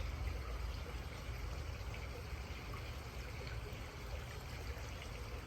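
Water trickles and pours steadily into a small container for watercolor painting, a soft continuous stream heard close by without talk.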